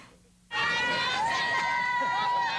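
Crowd of hundreds of West Virginians cheering at a hometown parade for Jessica Lynch, the noise bursting in suddenly after a quiet start and staying loud, with shouts and high whistle-like tones over the roar.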